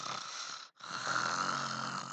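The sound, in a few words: fake snoring imitated by a voice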